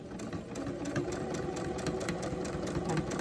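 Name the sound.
sewing machine running while sewing a fabric face mask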